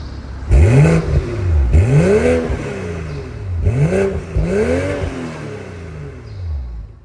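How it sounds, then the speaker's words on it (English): A 2024 BMW X3 M40i performance SUV revs repeatedly through a dual exhaust, rising and falling in several loud sweeps with a deep rumble between pulls. "a rear diffuser over here with two dual exhaust pipes over here, which sounds amazing"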